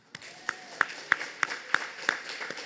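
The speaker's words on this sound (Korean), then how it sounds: "우리에게 위대한 구원을 허락하신 어린 양 예수 그리스도께 감사와 영광의 박수를" A church congregation claps in a slow, steady unison rhythm, about eight distinct claps spaced evenly, moderately faint within a reverberant sanctuary, with a soft sustained tone beneath.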